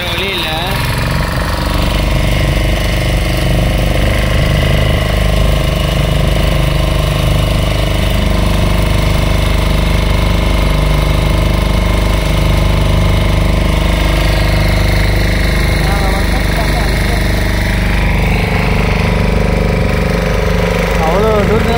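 A diesel boat engine runs loud and close in a steady chugging drone with a knocking rumble throughout, while people talk over it.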